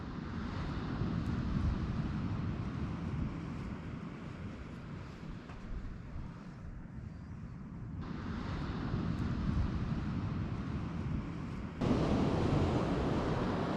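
Waves wash onto a fine beach on a calm day, a continuous low surf rumble mixed with wind noise that swells slightly toward the end.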